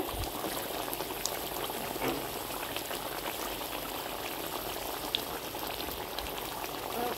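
Keema potol simmers under a lid in a covered pan, giving a steady, soft bubbling hiss with faint pops throughout, close and even, with no voices.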